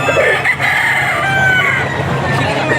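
A gamefowl rooster crowing at a busy poultry auction market, a drawn-out tonal crow riding over a constant din of other birds and crowd noise.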